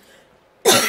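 A single sudden cough bursts out loud and close after a moment of near quiet, harsh and breathy, cutting off at the end.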